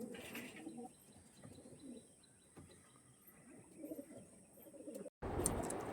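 Pigeons coo and chirp softly at a distance in a quiet outdoor setting, a few low calls scattered through the stretch, before a brief cut to louder noise at the end.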